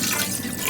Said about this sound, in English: Add 1 liter of water in a pot.